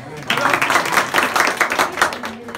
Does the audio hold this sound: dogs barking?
no